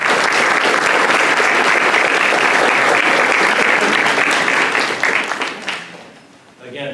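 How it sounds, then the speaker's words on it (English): Audience applause for school staff at an adult learning center graduation ceremony, a dense, loud roomful of clapping that holds steady for about five seconds before fading out. "if you would help me giving them a round of applause for a job well done"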